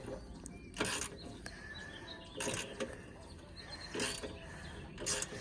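A ratchet wrench backs bolts off a 1995 Jeep Cherokee Wagon in a few short bursts of rapid clicking, separated by quieter gaps with faint background noise.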